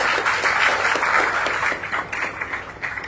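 Audience applause at a Tamil debate event, a dense wash of clapping from a large crowd, loud at first and gradually thinning and fading over the final second.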